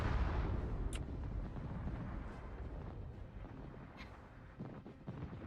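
A torpedo strikes a ship in the naval game King of the Sea, a heavy rumbling blast that rolls on as a dense, wind-like roar and slowly fades, with brief bright spray-like hiss flecks scattered through it.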